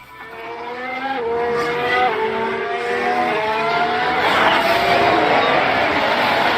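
Several race cars in F1 Manager roar past at close range, their engine notes sliding up and down in overlapping pitches as they overtake, with a steady loud wash of motor noise throughout and no talk.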